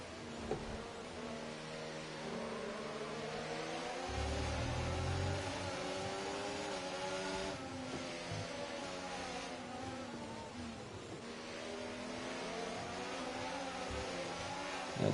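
A Ferrari Formula 1 car in the F1 24 racing game at Zandvoort, its high-pitched engine whining steadily throughout with shifting pitch as it accelerates and defends, a continuous loud drone with no talking.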